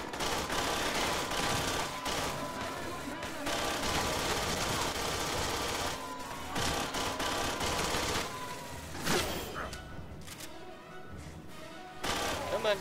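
Gunfire in Aliens: Colonial Marines, long loud bursts of rapid automatic fire broken by short pauses and a few sharper impacts, with voices appearing between the volleys.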